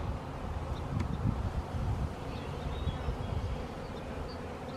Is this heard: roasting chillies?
no